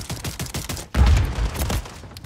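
Gunfire in Call of Duty Warzone, a rapid burst of close shots followed by a heavy booming blast and rumbling echoes in a noisy game mix.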